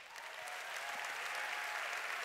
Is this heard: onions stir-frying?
no